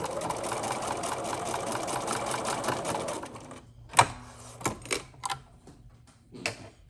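A sewing machine runs a continuous close whirring stitch along a curved waistband, then stops, leaving a few separate clicks and knocks.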